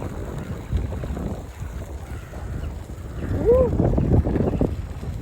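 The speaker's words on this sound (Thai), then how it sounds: "ลมแรงค่ะ" Strong wind gusts over the microphone at the seaside, a steady low rumble and buffeting that swells louder in the second half, with a brief bird-like call near the middle and no clear talk.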